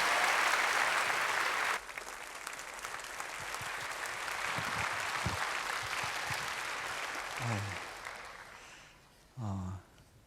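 A church congregation applauds for a visiting missionary, loud sustained clapping that stops abruptly and gives way to quieter room noise and a few brief voiced sounds.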